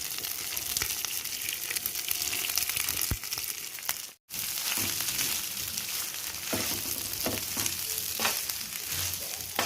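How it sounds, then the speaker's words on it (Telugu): Cooked rice tossed into a pan of tempering with coriander powder, frying with a steady loud sizzle and scraping stir strokes, a brief dropout near the middle, no talking. "ఆ అన్నాన్ని పోపులో వేసేసుకుందాం."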